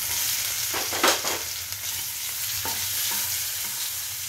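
Loud, continuous sizzle of spices with chili powder frying in a pan, with a few scraping stirs near the start.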